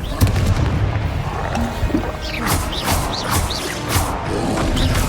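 Magical spell blasts and explosive booms from Bombarda and Confringo curses in Hogwarts Legacy, loud crashing impacts layered over battle noise during a fight with a troll.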